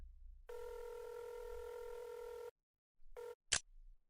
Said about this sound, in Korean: 선불 휴대전화 바근택의 전화거든